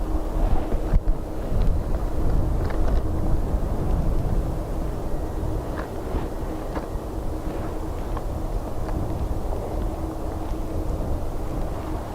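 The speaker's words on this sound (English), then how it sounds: "So that was a BA Embraer in from London City, I believe, that went around." A BA Embraer jet in from London City going around in strong storm crosswinds at an airport, heard as a distant, steady low jet roar mixed with heavy wind buffeting on the microphone.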